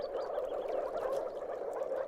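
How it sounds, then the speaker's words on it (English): Moor frogs call from marshy low-moor water, a continuous chorus of glugging croaks blending into a steady, moderately loud drone. "It's the call of the moor frog."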